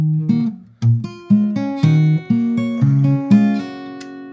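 Acoustic guitar playing a song, picked notes ringing out clearly one after another in a steady fingerpicked phrase, with no talking.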